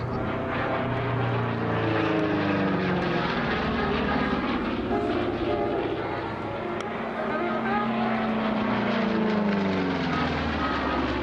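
A P-47 Thunderbolt, the World War II propeller fighter, flies past at an air show, its radial engine giving a loud, sustained roar that swells and shifts in pitch as it passes, with no other sounds breaking through.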